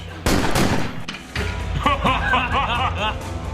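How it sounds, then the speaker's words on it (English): Gunshots from a violent action scene in the TV series The Punisher, a few loud sharp bangs early on, followed by someone talking and reacting over the scene's sound. "he shot the light bulb"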